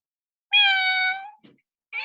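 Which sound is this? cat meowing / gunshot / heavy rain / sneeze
cat meowing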